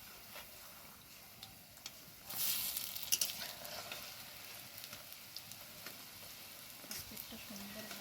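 Raw potato pakoras fry in hot oil with a soft, continuous sizzle that briefly flares louder as they are turned, along with a few light utensil clicks.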